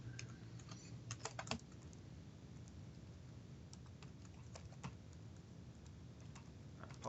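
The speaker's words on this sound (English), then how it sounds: "I apologize for my awful typing." Someone types on a computer keyboard during a software demonstration. Quick clusters of faint key clicks come over a steady low room hum, busiest near the start and then sparser.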